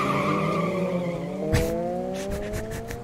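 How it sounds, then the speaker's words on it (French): A car engine in the video game GTA revs loudly while tires skid and squeal, and a sharp impact cuts in halfway through the engine's rising drone. "Le son de leur moteur est parti plus vite que leur voiture."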